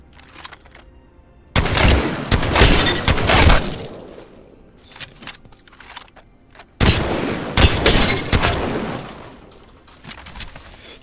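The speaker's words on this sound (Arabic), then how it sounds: "عم نضرب طلقة واحدة، يعني هي ست طلقات" Gunfire in the Apex Legends video game, two loud bursts of shots with crackling impacts and debris, each followed by quieter tails.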